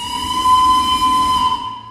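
A Roblox cargo train whistle blows in one loud, sustained, steady steam-style tone lasting about two seconds, with a hissy edge, and cuts off at the end.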